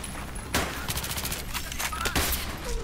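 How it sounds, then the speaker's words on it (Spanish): Gunfire from a nearby building in Battlefield 3 cracks out in a few sharp shots and short bursts, moderately distant, over a steady background din of battle. "están disparando desde el edificio de enfrente"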